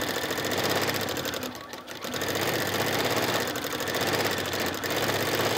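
A sewing machine stitches embroidery onto a denim shirt, its fast steady needle chatter running continuously close by with one brief pause.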